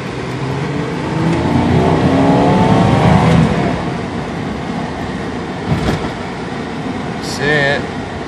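A 1994 Jeep Cherokee engine accelerates with a steady rising drone as the truck picks up speed, fairly loud and continuous, with a person talking over it.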